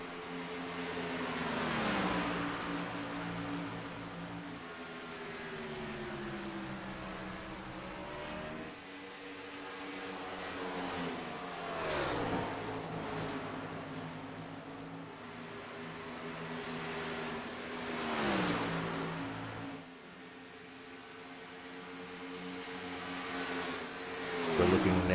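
Race car engines circle Texas Motor Speedway in a racing video game, a steady loud drone that rises and falls with gear changes and downshifts, with several deep dips as cars pass, under commentary.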